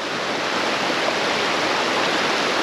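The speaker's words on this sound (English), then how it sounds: "Waterfalls everywhere." Waterfalls rush steadily in a gorgeous outdoor spot in Wales, a dense, even roar of falling water filling the whole clip without any voices.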